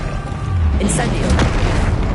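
Casting Incendio in Hogwarts Legacy produces a booming burst of fire, a low rumbling whoosh with a bright crackling flare in the middle, loud and close amid other game effects.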